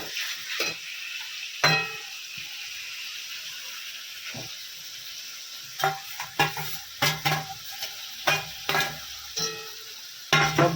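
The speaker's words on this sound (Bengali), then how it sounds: "একটু নাড়ানোর পর আমি আস্তে আস্তে এই আদা রসুন পেস্টটাও দিয়ে দিলাম।" Mutton frying with ginger garlic paste and marinated chilli in a pan, with a low steady sizzle broken by irregular stirring scrapes and clacks. The strokes grow more frequent toward the end.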